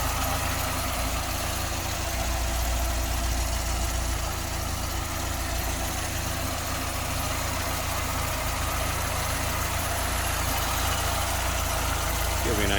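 A 1978 MG MGB convertible's single-carburettor engine idles steadily and smoothly, a constant low mechanical drone that holds unbroken and fairly loud throughout with no talking over it.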